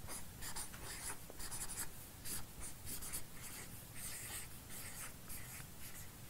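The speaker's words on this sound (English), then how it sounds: "I'm just going to write directly" Steady handwriting on paper, a continuous scratchy rubbing of pen strokes with short rhythmic bursts, close and fairly quiet, with no talking.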